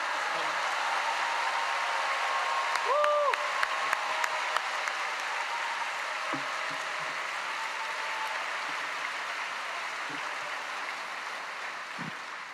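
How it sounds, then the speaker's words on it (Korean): Sustained, dense applause from a church congregation welcoming the pastor of a Ghanaian church onto the stage at a Friday Spirit-filled service at Yoido Full Gospel Church, steady and enveloping throughout, with a brief warbling tone near the start. "이제 목사님 모실 때 하나님께 할렐루야 영광 돌리시고 큰 박수로 맞이하시겠습니다"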